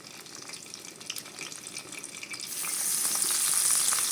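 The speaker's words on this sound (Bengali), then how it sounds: "এখন আমরা এই পাশে বেগুন ভেজে নেব।" Eggplant slices frying in hot oil in a village kitchen, a steady crackling sizzle that swells louder and brighter near the end, heard close with no talking.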